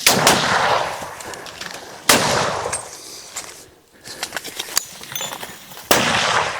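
Rifle shots fired at a charging elephant on a safari in Zimbabwe: three loud, sharp cracks spaced a couple of seconds apart, each with a ringing tail, and quieter clatter between them.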